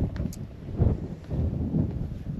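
Gusty wind blows across a beach campsite at Ningaloo, buffeting the microphone in low, rumbling surges that rise and fall over a couple of seconds.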